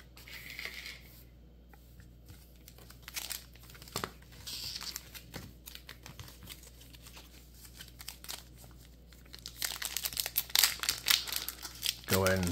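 Pokémon 151 booster pack wrappers torn open and crinkled, close plastic crackles and rips that build to a dense, loud flurry at the end, with a person talking over them.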